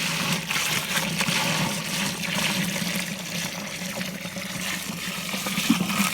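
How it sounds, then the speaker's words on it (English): Steady running water pours and splashes continuously into a bucket of manure, fairly close and without talk. "Cover it in water, stir it around"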